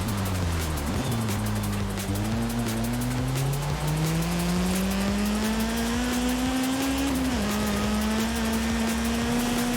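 A car engine revs continuously in Forza Horizon 5, its pitch climbing and dipping as it shifts and VTEC engages, loud and close with a steady rush of road noise behind.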